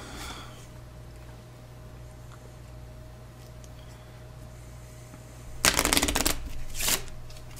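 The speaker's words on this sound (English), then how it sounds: "Shuffle the weapon deck and reveal two cards." A deck of weapon cards from the board game Roll Player Adventures shuffled at close range, a quiet stretch then a loud riffling burst of several seconds followed by a shorter second shuffle.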